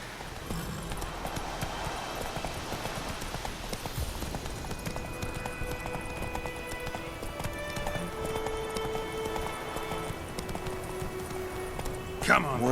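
Horse hooves clip-clopping at a steady gallop in The Witcher 3, with an occasional whinny, running continuously beneath voices talking over the ride.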